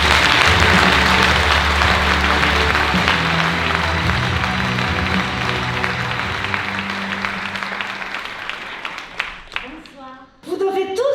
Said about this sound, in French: Alors sous vos applaudissements, s'il vous plaît, merci d'accueillir Christina Cordula.